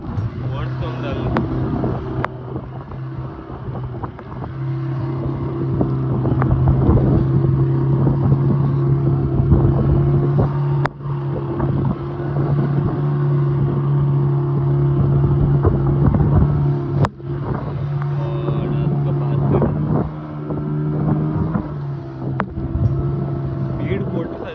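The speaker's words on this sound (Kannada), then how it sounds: "ಸ್ಪೀಡ್ ಕೊಟ್ಟು ಸರ್ ದೋಣಿ ಒಂದು ಇದ್ರ ಮೇಲೆ ಹಾರ್ದಂಗಿತ್ತು" A boat speeds over water with a loud, continuous engine drone and heavy wind buffeting on the microphone, while people talk over it throughout.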